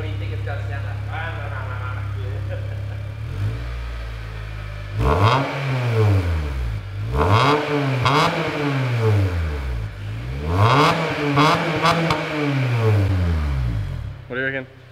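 A modified Honda car engine idles, then is revved up and down in three or four rising and falling sweeps, loud and close, its tone gruntier than stock, with people talking faintly at the start.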